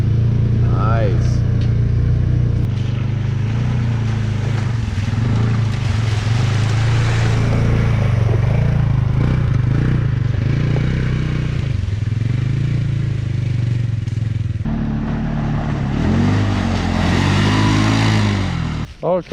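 A Polaris Ranger 570 UTV with a lift kit drives over rocks, its engine droning loud and steady throughout with clatter and jolts from the rough ground, while a person talks over it.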